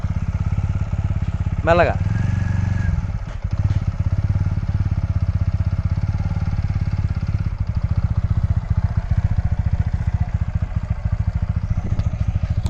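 A motorcycle engine running steadily up close as a learner releases the clutch during a riding lesson and the bike moves off, with a brief rev near the start and an instructor speaking briefly over it.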